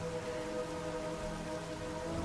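Rain falls in a drama scene as a dense, even hiss of steady rainfall, constant and fairly loud throughout, with no voices over it.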